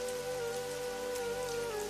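Steady rain falls in the rainy season, a soft, even hiss that fills the whole stretch with a sustained musical tone held underneath.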